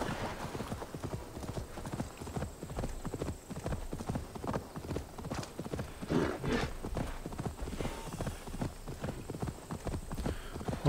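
A horse gallops in Assassin's Creed Valhalla, its hooves drumming in a fast, steady rhythm close up throughout, with a brief whinny partway through.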